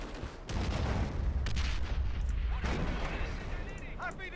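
Rifle grenades launched in Company of Heroes, a World War II strategy game, fire amid a continuous din of battle with booms and gunfire, several sharp blasts standing out, while a voice talks over the action.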